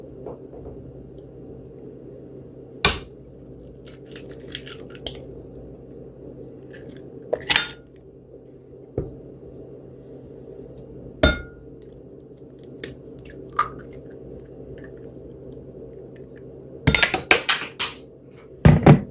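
Two eggs are cracked into a bowl in a home kitchen, heard as a few sharp taps and clinks against the bowl's rim that are spread out over a low steady background hum.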